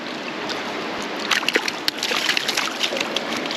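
A brook trout flops and splashes at the edge of a high, fast river, with irregular wet slaps and thumps over constant rushing water, loud and close.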